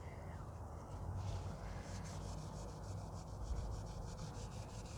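A cloth rubs polish into chrome with a soft, steady swishing scrape that runs continuously and fairly quietly, close up, with no talking.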